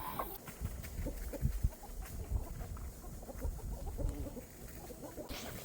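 Chickens cluck softly and intermittently close by, with scattered rustling and low background noise throughout.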